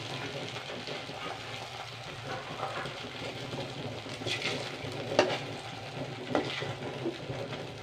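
Sabudana luchi frying in hot oil makes a continuous bubbling sizzle at moderate level, with occasional crackles and a few clinks of a utensil close by.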